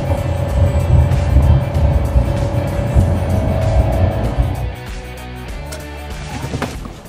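Chevrolet Montana pickup with a 1.2 turbo engine on a test drive, its steady road and engine drone heard from inside, fairly loud and continuous, easing to a quieter hum near the end with no talk.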